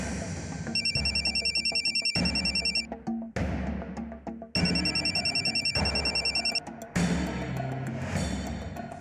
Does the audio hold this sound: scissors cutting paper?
no